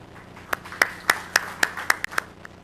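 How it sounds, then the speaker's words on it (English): Sparse applause greets a speaker at a conference. A few distinct, evenly spaced claps ring out sharply over a quiet room rather than a full ovation. "give him a round of applause"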